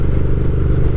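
A 2020 Triumph Speed Twin motorcycle is ridden on the road, its engine giving a loud, steady, rumbling drone mixed with wind noise and no talking.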